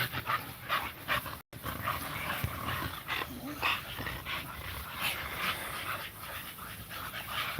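Several American Bully dogs whimper, pant and let out short yips and barks, close and fairly busy, with brief gaps and no talking.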